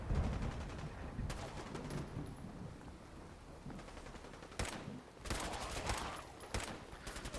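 Automatic gunfire in modded Fallout 4 survival play comes as sustained rattling bursts, quiet and somewhat distant. Several sharper, louder volleys break in near the end against a rumbling background.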